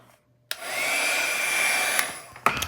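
A hair dryer blows steadily on a watercolor painting, switching on abruptly with a loud, even whoosh that holds for about two seconds before cutting off, with no talking.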